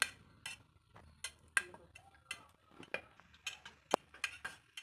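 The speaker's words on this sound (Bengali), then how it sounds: "এইভাবে খুন্তির সাহায্যে নেড়ে চেড়ে সব্বেজটাকে গুলে নিব" Metal spatula scraping and tapping in a pan as melted soap base is stirred, a run of light, sharp clinks and scrapes at close range, with no voices.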